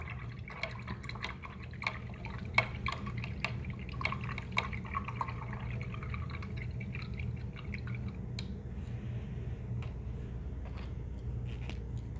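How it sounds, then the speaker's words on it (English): A paintbrush is swished and rinsed in a water container while painting an acrylic butterfly, giving soft repeated drips, taps and watery splashes that stay fairly quiet over a steady low background hum. "Alright, so I'm going to rinse that out."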